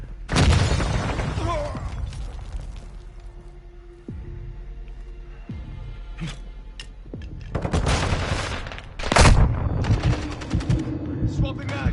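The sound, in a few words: gunfire in the video game Modern Warfare II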